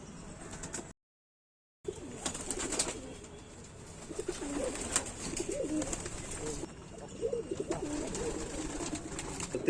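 Pet high-flyer pigeons coo in soft, repeated bursts at close range over a low background hum, after a brief gap of silence near the start.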